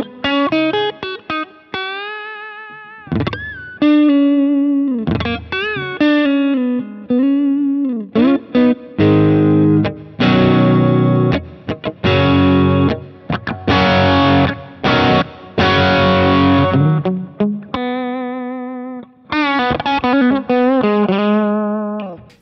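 Electric guitar driven through a Full OC overdrive pedal into a Kemper profiling amp, with the mix set high, playing distorted chords and single-note riffs with sustained crunchy tone and brief pauses between phrases, loud and close.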